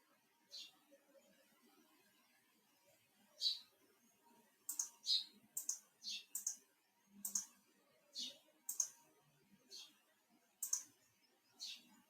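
Sharp, crisp mouse clicks tap out alone in a quiet room, scattered at first and then coming in a quicker irregular run of about a dozen close, bright clicks.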